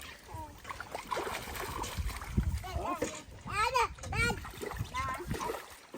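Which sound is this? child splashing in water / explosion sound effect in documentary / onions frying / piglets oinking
child splashing in water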